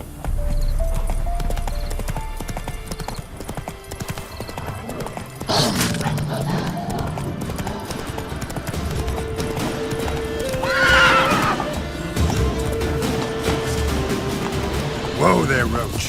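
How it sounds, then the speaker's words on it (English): The horse Roach in the Witcher 3: Wild Hunt next-gen update, hooves clip-clopping at a gallop with loud, close neighs and whinnies. Game music and a voice are heard alongside. "Whoa there, Roach"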